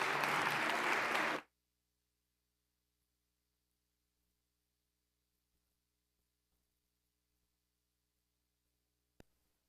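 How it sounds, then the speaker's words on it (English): Audience applause at a community safety event, a brief burst of clapping loud at the start and then cut off into near silence. "let's give them another round of applause"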